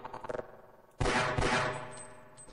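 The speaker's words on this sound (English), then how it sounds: "I didn't mean to shoot it twice" Gunfire in the video game Half-Life: Opposing Force: a soft rapid patter, then one loud, close shot with a ringing, metallic decay.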